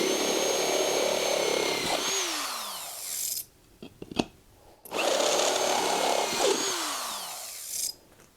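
A power drill bores holes into a 125B guitar effects pedal enclosure in two bursts of whining, rising bit noise, separated by a short pause with a few clicks and handling knocks.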